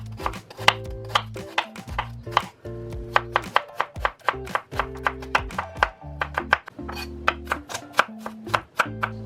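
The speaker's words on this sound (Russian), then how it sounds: "Мелко порежу лук и чеснок." A knife rapidly chops onion and garlic on a cutting board, dense rhythmic taps with brief pauses, close and crisp, continuing steadily without any talk.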